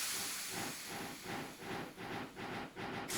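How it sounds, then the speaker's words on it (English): Steam trains in the video game Steam Revolution chuff and hiss, a steady breathy hiss pulsing in regular beats like a running engine, moderately quiet with no talk. "All the trains going around."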